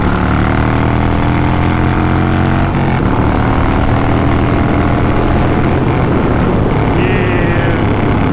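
A Harley-Davidson motorcycle engine runs hard down a highway, a loud, steady droning roar with a rushing wind noise over it and no voices.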